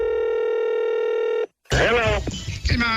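Telephone tones on a radio prank call, a steady loud tone lasting about a second and a half, a brief silence, then a voice answering on the line.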